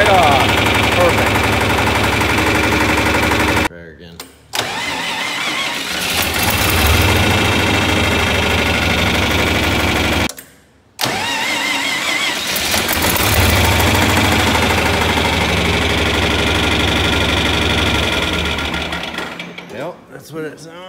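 A John Deere 4020 tractor's diesel engine, fitted with a gear-reduction starter, fires and runs loudly with a steady clatter, broken by two short gaps, while someone talks over it.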